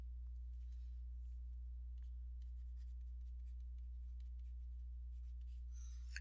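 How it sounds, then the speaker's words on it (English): Notes written by hand with a pen during a physics lesson, faint scratchy strokes over a steady low electrical hum, no talking. "So I'm going to write it down."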